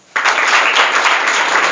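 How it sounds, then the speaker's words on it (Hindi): Audience applause fills a seminar hall for students, a sudden burst of many hands clapping that starts sharply and holds steady and loud throughout. "ताली बजाओ।"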